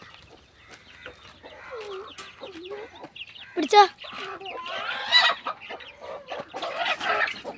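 Chickens and a chick clucking close by in a farmyard where kids try to catch them, short scattered clucks and squawks with a louder flurry midway, under children's excited talk.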